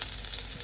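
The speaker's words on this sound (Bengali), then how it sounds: "এখন পনিরগুলো তেলে দিয়ে দিবে।" Paneer pieces fry in hot oil for an egg paneer masala, giving a dense, loud, continuous sizzle with no talking.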